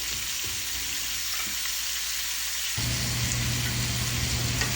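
Pumpkin pieces fry in a pan with turmeric and chili powder, a steady broadband sizzle with soft stirring scrapes; a low hum joins partway through, and no one speaks.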